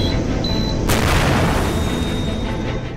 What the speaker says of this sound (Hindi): कार में जोरदार ब्लास्ट,